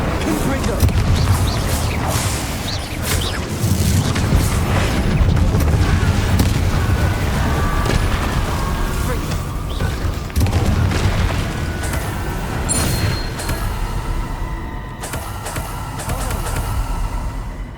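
Rumbling blasts from the Confringo blasting spell in the video game Hogwarts Legacy, repeated booms over a dense, continuous bed of game music and effects that stays loud throughout.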